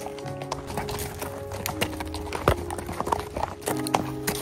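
Horses on a mountain riding trip in the Alps clip-clop steadily along a trail, close rhythmic hoofbeats with occasional sharper knocks, faint murmuring voices and outdoor ambience underneath.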